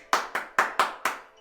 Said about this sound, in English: clap for ourselves because we did something good.